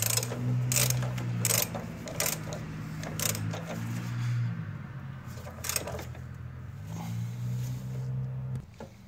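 A ratchet clicks in quick repeated bursts while tightening an engine bolt on a 2008 Mazda during gasket replacement, with a low motor-like hum and shop noise underneath.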